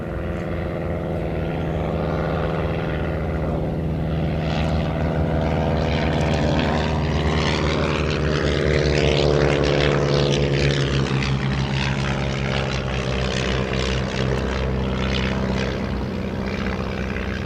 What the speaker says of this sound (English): The Blackburn B2, the aircraft leading this pair, something of an odd man out in this combination of aircraft